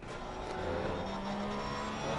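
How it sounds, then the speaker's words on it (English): A Porsche GT3 race car engine drones steadily in Assetto Corsa Competizione, heard onboard during a British GT3 race at Brands Hatch, a continuous mid-level roar with a faint whine throughout. "We can see and listen to that Porsche as well."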